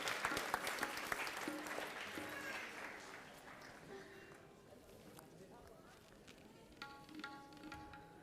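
Guests at a Hindu Vedic wedding ceremony applaud the registrar with a burst of clapping that fades over several seconds, mixed with voices and movement in the room.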